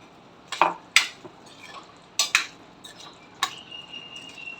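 A few sharp metallic scrapes and clinks of a spoon against a pot of tinda and chana dal curry, spaced irregularly over a quiet background.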